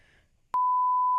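A censor beep cuts in: a single loud, steady electronic tone starts abruptly and holds to the end, after a moment of near silence.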